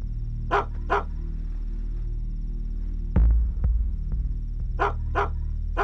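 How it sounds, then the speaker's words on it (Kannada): Dogs bark near the door of a house: a quick pair of barks, a dull thump, then a rapid burst of three more barks over a low steady hum. "ಈ ಹಾಳಾದ ನಾಯಿಗಳು"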